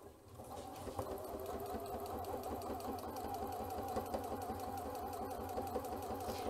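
A Janome C30 sewing machine top stitches a small fabric pouch, giving a continuous, moderately quiet, rapid rhythmic hum and tapping throughout, with no talking.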